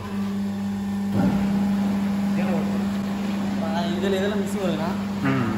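A mixer machine runs at an interlock brick plant, giving a steady low mechanical hum throughout, with people talking over it.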